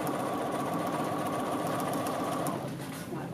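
A sewing machine runs steadily and loudly while back stitching a seam on a shoulder neck facing sample, its motor hum easing near the end.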